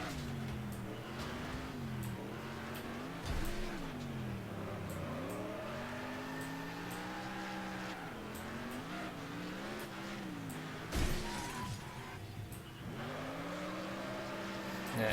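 Game car engine from Next Car Game, a wrecking demolition mode, droning steadily with rising and falling revs throughout, plus a couple of brief thumps from impacts.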